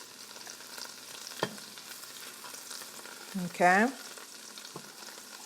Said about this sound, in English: I'm just going to allow my garlic to cook for a few minutes, just to infuse of that garlic flavor into that butter